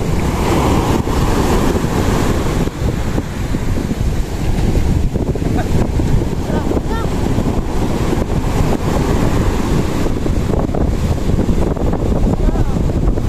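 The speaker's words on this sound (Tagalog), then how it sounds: "Lakas ang alon." Strong ocean waves surge and crash with gusty wind buffeting the microphone, and people talk over the rough water.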